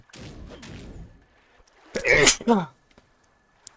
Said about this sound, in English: Needed to sneeze.